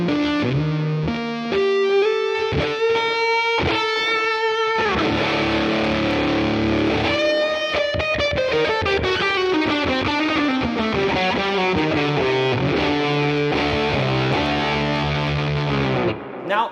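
Fuzz electric guitar through a delay on a Tone King Imperial MKII Neural DSP amp plugin, a warm saturated riff of picked notes and chords with repeating echoes trailing behind, loud and alone.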